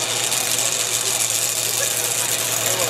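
Alcohol-fuelled race car with a roughly 500-cubic-inch Hemi engine, a loud, steady, close engine roar with a dense rumbling drone and hissing top end throughout.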